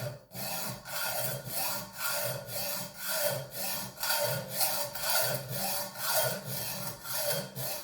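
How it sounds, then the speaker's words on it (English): A hand saw rasps back and forth in a steady rhythm, about a dozen strokes, as it cuts a slit into a car's front lower control arm bushing, close and alone without talk. "I have to like really hold onto it and gently cut into it"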